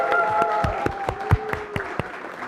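An audience at a Liberty Korea Party political talk concert applauds, with scattered claps in an irregular rhythm over faint sustained tones, moderately loud.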